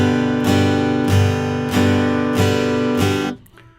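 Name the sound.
guitar strummed in plain quarter notes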